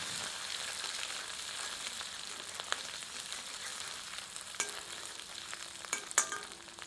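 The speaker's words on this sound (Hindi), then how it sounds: "धीमी आंच पर इन्हें कुछ क्षण भून लेते हैं।" Crushed ginger, garlic and red chili fry on low heat for an egg masala, a steady hissing sizzle with spatula scrapes and a few sharper clicks toward the end, no speech.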